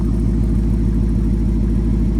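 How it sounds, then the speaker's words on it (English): A 1972 Ford F-250 truck with a swapped Coyote engine idles steadily once warmed up, with a deep, even low rumble and no talking. "So it's just idling. This is what it would sound like after it's warmed up."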